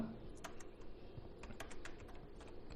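Quiet, close typing on a computer keyboard, a loose sequence of light key clicks at an irregular pace, ending with a louder bump.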